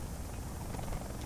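Helicopter rotor and engine drone in a Call of Duty: Black Ops 4 Blackout match, a steady dense broadband roar running throughout the short moment without pause.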